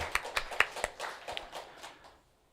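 Scattered, sparse clapping from a small congregation at an early-morning church service, a handful of distinct claps that thin out and fade after about two seconds.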